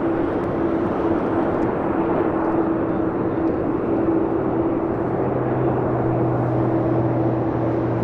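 An airliner landing on runway 25 left at LAX, a steady loud jet engine roar with a sustained low drone that deepens toward the end as the plane rolls out.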